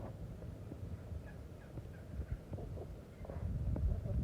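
Lavender Sussex pullets cluck and murmur softly in short, scattered calls, with some shuffling and light knocks nearby and a fuller rustle toward the end.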